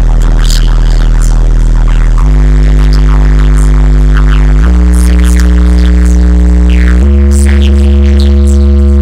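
A very loud, deep bass tone from a car audio system driven by a 10000-watt RMS amplifier, steady and booming, stepping down and up in pitch in several distinct stages with rattling buzz over it.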